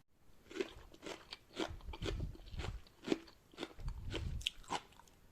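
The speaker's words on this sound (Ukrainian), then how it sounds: "Вона навіть хрумкотить." Quick-pickled sauerkraut cabbage, softened with boiling water yet still crisp, being bitten and chewed up close: a series of sharp, wet crunches in an irregular rhythm, with no talking.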